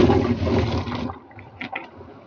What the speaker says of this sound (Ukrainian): Все, закипів сироп, кидаю яблуко.